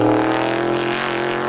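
A race car at Star Speedway roars past on a time-trial lap, a loud sustained engine tone with strong harmonics over a brief stretch, close and alone.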